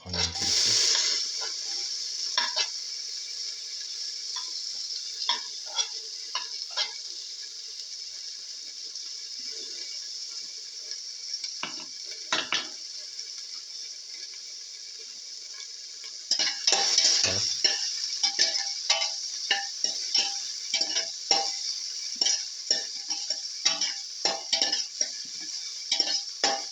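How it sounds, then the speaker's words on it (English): Onion pieces sautéing in a pan with a steady hissing sizzle, broken by frequent utensil scrapes and clinks as they are stirred, growing busier and louder midway. "Keep on sauteing."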